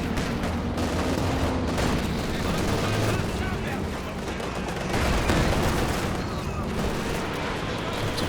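Werfer rocket artillery strikes in Company of Heroes 2 land amid dense, continuous battle noise, with booms and rapid gunfire blending into a loud wall of sound under a talking voice.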